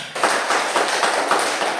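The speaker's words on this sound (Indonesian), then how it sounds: "Kasih tepuk tangan" Classroom students clap together for a group that has just finished a science demonstration, a short dense burst of applause with a few rhythmic swells, close and loud.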